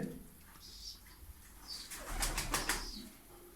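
Pet birds in a home aviary cooing softly, with bursts of wing flapping and a few faint chirps, quiet and intermittent, the flapping swelling briefly near the middle before settling.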